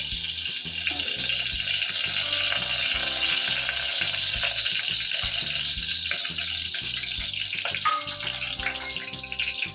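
Ghee heats and sizzles in a pressure cooker, a steady close hiss over a rhythmic low background throughout.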